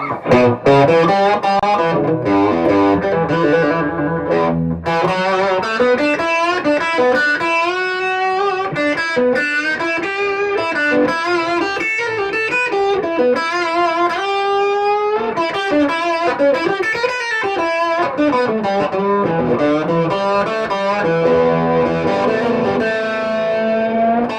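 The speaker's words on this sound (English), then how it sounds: "I don't used to play with that kind of amount of distortion, but it's beautiful too." An electric blues guitar played through heavy distortion rings out in sustained, fuzzy bends and licks, loud and continuous, with no talk over it.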